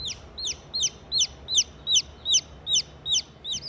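Young barred rock chicks calling, a steady series of about a dozen high, evenly spaced peeping chirps, close and clear with no talking.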